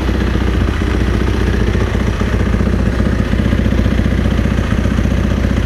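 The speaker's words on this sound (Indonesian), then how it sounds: "Terus teman-teman kalau ngidupin motor" A supermoto motorcycle engine runs at a steady idle, loud and close, with a constant low mechanical rumble and clatter and no voices over it.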